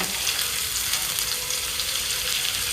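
Spring onion heads sauté in a pan for a sardine sotanghon soup, making a continuous, fairly even close sizzle throughout the short stretch.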